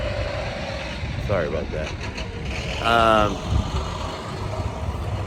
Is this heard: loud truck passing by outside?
yes